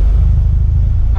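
Air-cooled engine of a 1977 VW Beetle fitted with a sport air filter, idling and revving with a loud, close, steady rumble that stays constant throughout.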